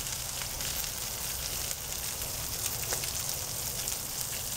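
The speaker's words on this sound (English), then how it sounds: "Let's grill some onions." Onions sizzling on a hot grill for cheeseburgers, a dense, steady crackle and hiss that stays even and close throughout, with no voices.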